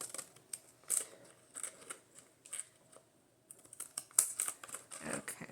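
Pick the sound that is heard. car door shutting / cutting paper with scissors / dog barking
cutting paper with scissors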